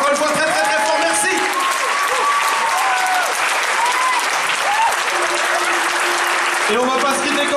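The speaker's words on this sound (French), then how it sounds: "On peut les applaudir encore une fois très très très fort" Loud, dense audience applause fills a live battle show, sustained and continuous throughout, with scattered cheers and whistles rising above the clapping.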